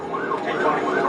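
A police car siren wails in rising and falling sweeps during a pursuit of a Dodge Charger Hellcat, moderately loud over traffic noise.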